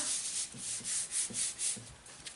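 Hand rubbing over an embossed craft card made with an embossing folder: soft, close rhythmic swishing strokes, about five passes in quick succession, quiet and with no talk.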